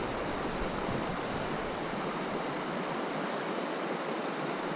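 Loud, steady rush of river water on the Middle Fork of the Holston River, a broad continuous roar filling the whole clip with no pauses.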